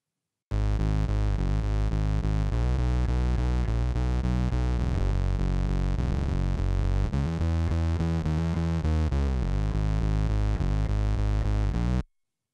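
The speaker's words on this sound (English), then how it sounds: "Now let's listen to chorus bass two, a very different type of distortion." Heavily distorted bass guitar plays a gritty, sustained riff alone, loud and dense throughout before cutting off at the end.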